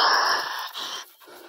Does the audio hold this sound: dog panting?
yes